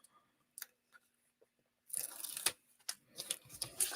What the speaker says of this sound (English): they have this backing that kind of cracks so you can peel it open